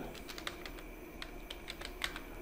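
Python code is typed on a computer keyboard in a close, rapid run of crisp keystrokes with uneven rhythm and occasional louder key hits.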